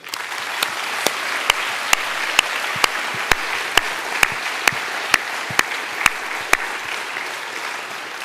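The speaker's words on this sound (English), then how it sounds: "These guys deserve another applause." Applause fills the room at an F1 in Schools awards dinner, a sustained crowd clapping punctuated by sharp, evenly spaced loud cracks roughly every half second.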